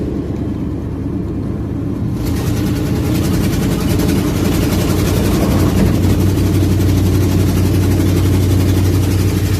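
A car engine with a spark plug not firing right runs loud and steady at close range, a continuous low rumbling drone with a slightly uneven pulse throughout.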